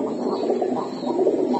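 Pigeons coo steadily and close by at a market stall selling pigeon pairs, including Gorra and Red Muslim breeds, a soft continuous murmur of overlapping low calls with no voices.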